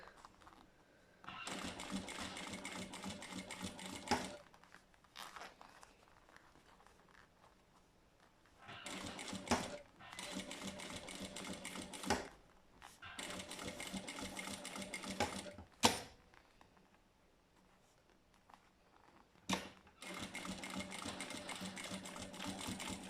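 Industrial sewing machine stitching a wallet in several bursts of rapid, even chatter separated by short pauses and clicks, quiet and with no talk.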